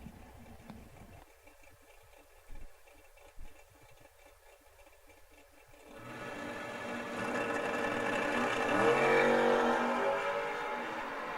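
At a drag strip, a first-generation Camaro race car launches after a quiet stretch, its engine roar swelling and growing loud as it accelerates away.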